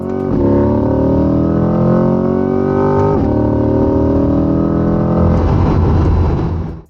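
A Chevrolet Corvette Stingray drives past loud and close, its engine droning steadily with a rising rev around midway, no talk.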